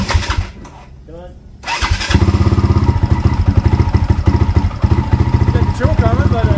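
A 20-year-old 2003 dirt bike engine with the choke on starts up after a brief quiet stretch, then runs loud and close in a rapid, steady, slightly uneven putter for several seconds.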